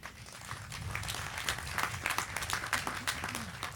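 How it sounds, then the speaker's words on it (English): Steady applause from an outdoor audience at a civic groundbreaking ceremony for new homes at a shipyard, many hands clapping at moderate distance and continuing throughout. "oh, there's claps"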